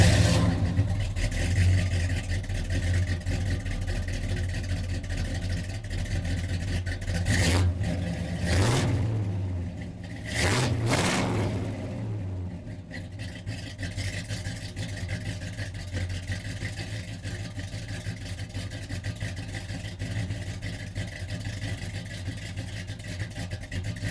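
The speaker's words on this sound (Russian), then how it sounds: "Давайте послушаем звук старого карбюратора нового V8." A 1966 Pontiac LeMans V8 with an old carburetor and a slightly modified exhaust idles steadily at close range, with a couple of brief revs in the middle, running alone without talk.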